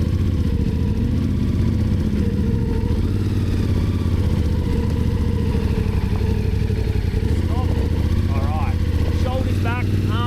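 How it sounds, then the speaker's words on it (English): Adventure motorcycle creeping up a hill at low revs, a steady close engine drone throughout with a brief rising rev near the end, while someone speaks over it. "just let that bike creep all the way to the top"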